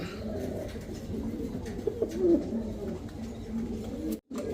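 A pair of grey Danish baby pigeons coo softly nearby, low throaty burbling calls rolling on and off over a faint background hum.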